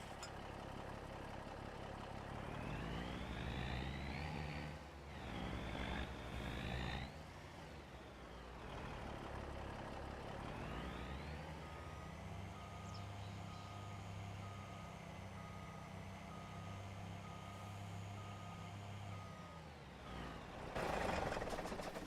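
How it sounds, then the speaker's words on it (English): A truck in Farming Simulator 25 grinds through gear shifts, then idles and rolls with a steady engine drone under a regular reversing beep, ending with a short hiss like an air brake; no one speaks. "Let's move the truck closer."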